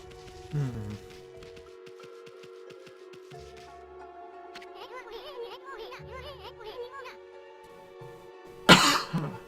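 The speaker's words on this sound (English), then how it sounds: "It was a quieter cough, to be honest." A single short cough bursts out near the end, fairly loud against steady melodic music from the Okami HD video game that plays throughout.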